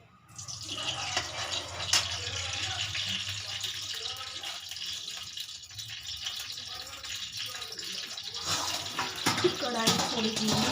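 Running water splashes into a kadhai as it is rinsed, a steady close hiss of flowing water with small drips, and a faint voice stirring in the background.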